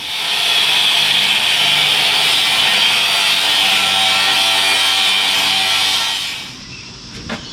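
An angle grinder works gently on a part of a Detroit Diesel 4-71 engine, a steady loud whine held for about six seconds before it stops and spins down, with a few small knocks after.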